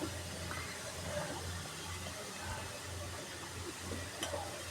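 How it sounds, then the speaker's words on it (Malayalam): Mustard seeds frying in hot oil for a tempering, a steady low sizzle and crackle with faint pops, close and quiet throughout. "അപ്പം നമ്മൾ ഇതിൻ്റെ കടു വറുക്കുന്നത്"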